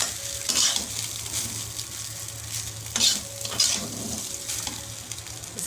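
Lemon rice being stirred and mixed in a pan, with a steady soft sizzle under a few louder scraping, stirring strokes of a spoon against the pan.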